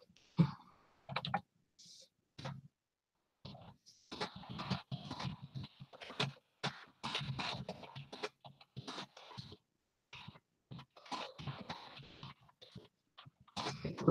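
Computer keyboard typing in short bursts of quick clicks, close and fairly loud, with brief pauses between runs of keystrokes.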